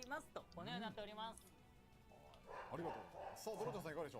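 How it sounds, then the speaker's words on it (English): A dog barking in the background, several yelping barks in bursts at the start and again near the end, close by and fairly loud, mixed with a person talking. "Dog's barking a bit, so sorry if you hear that."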